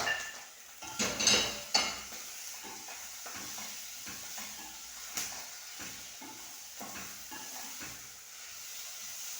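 Omena silver fish with onions and tomatoes sizzles faintly in a pan while being stirred, with a burst of scraping near the start and then soft, intermittent utensil taps and scrapes, close and without talk.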